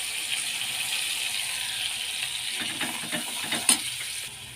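Prawns frying in oil in a pan with salt and onion paste: a steady close sizzle with a few clinks and stirring rattles near the end.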